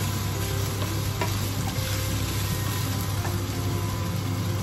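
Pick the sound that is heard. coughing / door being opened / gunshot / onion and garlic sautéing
onion and garlic sautéing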